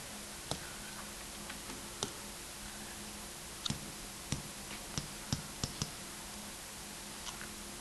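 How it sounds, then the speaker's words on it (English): Calculator keys pressed one at a time, a dozen or so soft plastic clicks at an uneven pace, some in quick pairs, faint and close over a quiet room hum. "Type it in the calculator."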